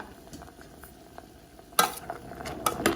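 Oyster mushrooms boil in a pot with a faint, steady bubbling, broken about halfway through by sharp clatters of a utensil against the pot.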